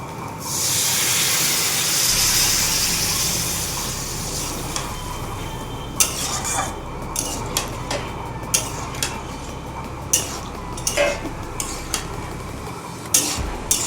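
Water poured into a hot pan of fried potatoes and spices, a loud steady hiss and sizzle that swells at once and holds, then eases into softer simmering with scattered clinks of a utensil against the pan.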